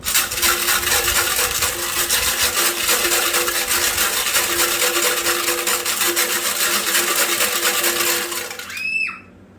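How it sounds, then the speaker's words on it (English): WD-40 sloshing inside the gas tank of a 1984 Honda ATC200X as it is shaken, a continuous loud swishing and rattling churn that fades out at the end with a few faint ringing taps. "fill it full of WD-40, slosh it around real good"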